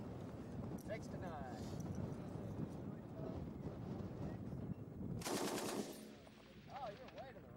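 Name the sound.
M-60 machine gun firing on a range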